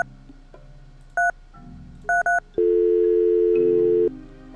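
Telephone keypad tones from a phone in the puzzle game Agent A: a single dual-tone beep, then a quick pair of beeps, followed by a long steady dial tone that lasts over a second before cutting off, all clear and without talk.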